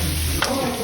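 Mushrooms sizzling and frying in a pan as they are stirred until their water cooks off, a constant crackling hiss with one brief scrape of the spoon near the middle.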